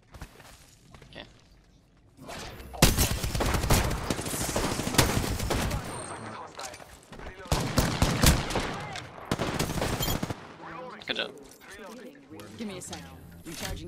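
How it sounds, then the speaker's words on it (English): Apex Legends gunfire comes in loud, rapid automatic bursts in several clusters, separated by quieter gaps with game movement and effect sounds close by. "This gun's so good"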